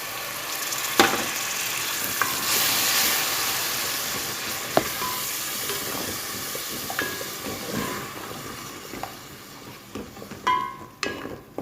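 Tomato paste fries in an aloo chicken gravy masala, a close, hissing sizzle with bursts of steam and scattered spoon clinks, loudest early and settling into softer crackles.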